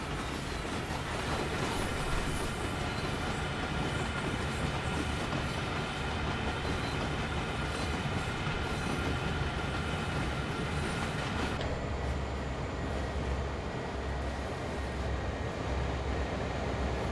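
An SD40-2 diesel locomotive hauls a long freight train in the Train Sim World 2 game, giving a steady rolling rumble with rail noise that runs unbroken throughout and drops slightly in brightness partway through.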